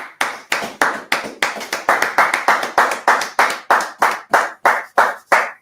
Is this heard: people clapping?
yes